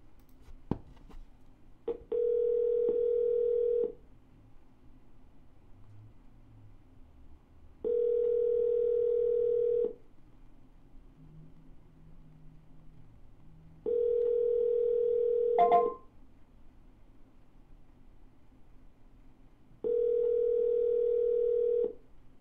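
A telephone line tone sounds while a call is being dialed: four even, steady tone bursts, each about two seconds long, separated by longer silent gaps, with a sharp click near the start and no talking.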